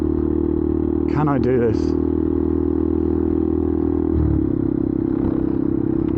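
A Benelli TNT 125 motorcycle with an upgraded exhaust idles with a steady low rumble close by, while a person speaks briefly over it.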